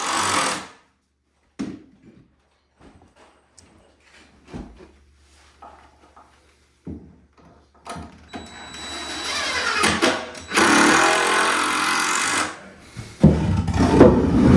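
A power drill drives screws into a wooden door header and jack stud while a two-by-four wall in a mobile home is framed. There are short intermittent knocks and handling noises, then a long loud whirring burst and another near the end.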